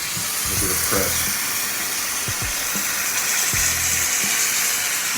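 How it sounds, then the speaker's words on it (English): A chicken caprese sandwich pressed in a sauté pan bubbles and sizzles with a steady close hiss, broken by soft pops and thuds as it is pressed down. "You hear all that good bubbling, oozing?"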